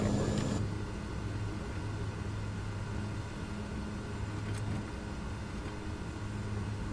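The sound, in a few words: small aircraft engine taxiing in Microsoft Flight Simulator video game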